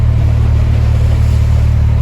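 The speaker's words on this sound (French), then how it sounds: "C'est le bruit du bateau qui est juste derrière là." A boat engine rumbles steadily from the quay just behind, a loud, even low-pitched drone with a constant hum and no voices.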